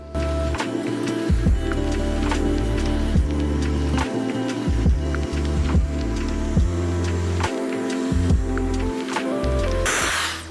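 A handheld hair dryer runs close by as hair is dried before clipper work on a taper fade, giving a steady whirring roar with a tonal whine that shifts in pitch as the dryer moves.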